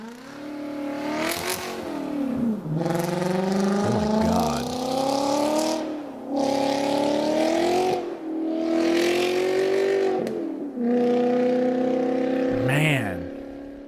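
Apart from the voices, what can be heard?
Volkswagen Passat W8 engine revving, played from a video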